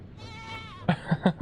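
A goat in the Minecraft video game gives a single wavering bleat, followed by a few quick, low thuds close up.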